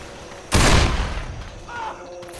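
A single heavy gunshot blast in a video game firefight that rings out and decays over about a second, followed by fainter mechanical clatter in the background.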